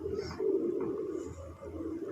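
Pigeons cooing in a steady, low, throaty murmur that rolls on continuously, fairly close and with no talking over it.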